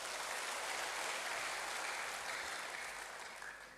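A church congregation applauds for God after a healing testimony, a broad, even clatter of many hands that fades gradually toward the end, with no voices over it.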